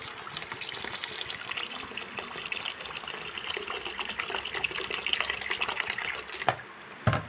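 Water pours steadily over soaked rice and lentils in a bowl for dosa batter: a continuous rushing, splashing flow that ends abruptly with a couple of small knocks.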